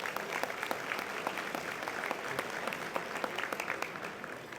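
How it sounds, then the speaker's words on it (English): A luncheon audience gives a round of applause, many hands clapping in a sustained, even burst with distinct individual claps standing out near the room. "Let's give a round of applause"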